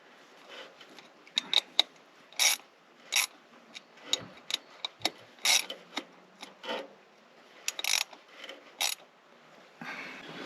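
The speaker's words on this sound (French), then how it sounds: "On va déjà faire un pré-serrage, juste histoire de rapprocher." A ratchet snugs down the bolts on a Mercedes W210 E290 water pump with bursts of quick, close clicking, separated by short pauses and faint handling noise.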